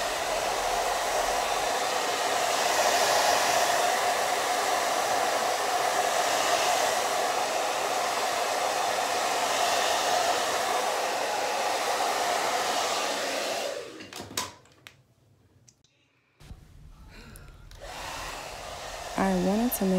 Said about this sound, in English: so I just went over it with the blow dryer just a little bit more